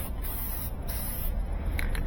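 An aerosol spray paint can hissing as it coats a washer or dryer, a continuous close spray broken by a few short pauses between bursts.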